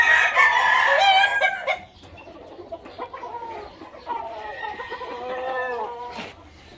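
Roosters of a fighting-cock breed crow loudly up close, followed by softer clucking and shorter crowing calls that overlap in the background.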